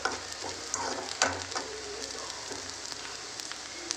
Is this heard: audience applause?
no